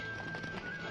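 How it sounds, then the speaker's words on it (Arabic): A horse in the Stronghold castle-building video game gallops with quick clip-clop hoofbeats and gives a whinny, a short, close game sound effect with a faint steady tone running beneath it. "الفرس تعدو."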